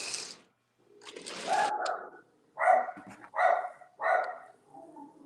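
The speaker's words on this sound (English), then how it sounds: "I hear barking." A dog barks several times in short, fairly close bursts beside a railway track, with brief pauses between barks.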